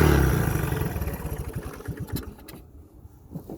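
A cold 1981 Honda 185 motorcycle idles unevenly after a cold start, its engine pulsing in a rough, irregular rhythm close by, with a louder burst at the outset easing into a steadier lumpy idle.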